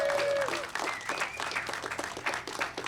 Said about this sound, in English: and that is worth applause.